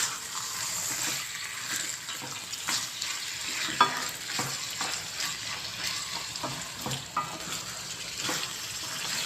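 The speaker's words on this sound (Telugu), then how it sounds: "దీంట్లో వాటర్ అంతా బయటకు వచ్చేసే వరకు మంచిగా వేగనివ్వాలి చికెన్" A continuous, vigorous sizzle of chicken frying in a pan until its water cooks off, broken by occasional scrapes and clacks of stirring.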